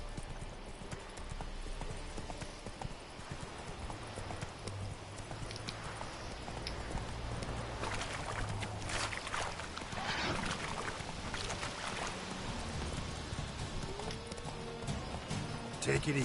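Galloping hooves of Roach, Geralt's horse in The Witcher III, drumming steadily throughout at moderate loudness, with game sounds and voices talking over them.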